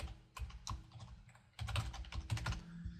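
Keys clack on a computer keyboard in two short bursts of quick typing as an email address is entered into a WordPress contact form, close up and separated by a brief pause.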